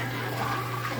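Liquid poured steadily into a thick Louisiana bayou-style roux gravy in a pot, a continuous close watery splash and rush with no talking.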